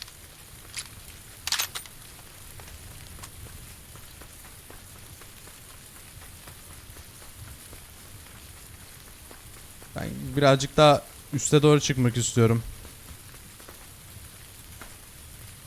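Steady soft rain patter in a video game runs throughout, with someone speaking briefly near the end over it.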